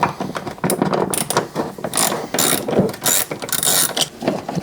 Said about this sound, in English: You wanna get these screws undone.